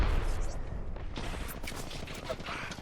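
Rapid gunfire from a Watson's weapons in the Apex Legends video game: a loud, continuous spray of shots and blasts over dense game noise, with talk running underneath.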